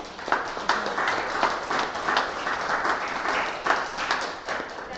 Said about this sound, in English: We have a round of applause for Darcy.